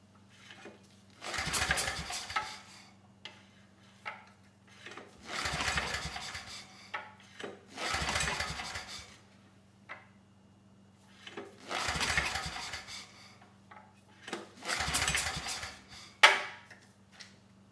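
A small engine is cranked again and again without catching: five or six raspy pull-start bursts about every two to three seconds, with a steady low hum between them and no speech.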